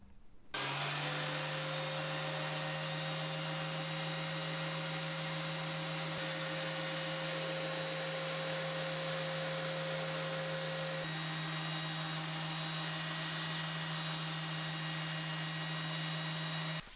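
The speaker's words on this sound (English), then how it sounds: "That's both boards sanded to 180 grit." Power sander working oak and resin serving boards to 180 grit, a loud steady hum that starts abruptly and drones on unbroken at close range, with no voices.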